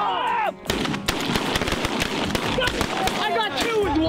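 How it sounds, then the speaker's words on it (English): Shotgun blasts during a youth waterfowl hunt, several loud, sharp reports in quick succession at close range, with people talking excitedly around the shots. "I got two with one shot."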